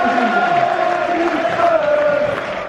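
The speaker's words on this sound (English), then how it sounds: "why don't we have a massive cheer for the teams that are now coming out?" A football crowd roars and cheers as the teams walk out at a Newport County match, a loud sustained stadium swell with mingled shouts and whoops that holds steady before easing slightly at the end.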